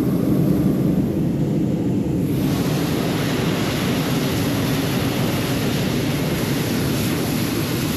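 Airplane descending to land near Taos, New Mexico: a loud, steady broadband roar of engine and airflow heard from inside the cabin, with a slight shift partway through, and no voices.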